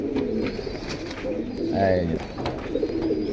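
Red pied pigeons coo at close range, giving repeated soft throaty calls in a pigeon sale setting. Someone speaks briefly over them.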